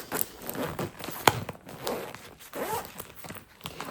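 Zipped package of new summer bedding being opened, with a sharp zipper pull followed by rustling and crinkling of fabric and plastic handled close by, in irregular bursts without talk.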